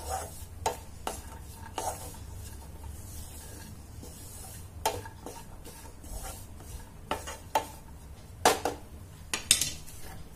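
A date and dry fruit laddoo mixture is stirred in a pan, with a spoon repeatedly scraping and clinking against the metal over a low, steady background hum and no voices.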